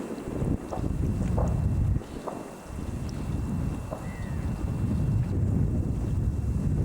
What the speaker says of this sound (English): You can see it's quite a brisk northerly wind.